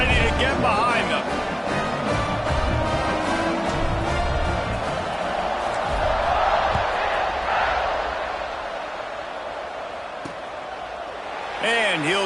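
Stadium crowd at a college football game in NCAA 26 swells in a broad, sustained roar, with a commentator talking over it and thumps and band-like tones in the mix.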